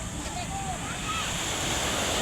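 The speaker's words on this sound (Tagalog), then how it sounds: "Ang linis ng dagat dito guys, sobra. Dito kami ngayon sa Patar. Patar Beach." Ocean surf at Patar Beach rushes in a steady broad wash with wind across the microphone, loud and continuous, with faint voices in the background.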